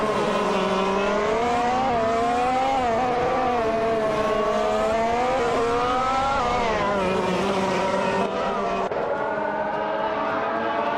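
Formula 1 2014 race cars screaming around Yas Marina in a racing game, a continuous loud high-pitched engine whine with rising and falling revs as gears shift through the lap, no talk.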